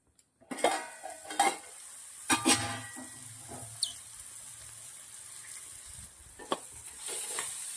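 Peas and onion crackle and sizzle in hot oil in a pan, with a steady frying hiss, several sharp stirring clinks of a utensil against the pan, and a brief rising squeak.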